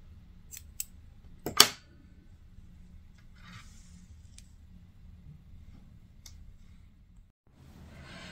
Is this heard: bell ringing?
no